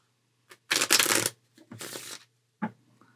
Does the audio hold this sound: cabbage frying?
no